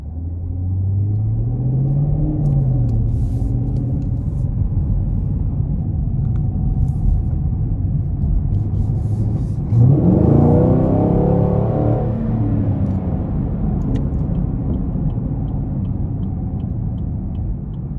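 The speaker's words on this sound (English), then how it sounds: "of course you can hear the V8" Low, steady rumble of a 2020 Chevy Camaro LT1 6.2-litre V8 heard from inside the cabin while driving, with a brief swell of revving around the middle and a continuous droning hum throughout, no talking.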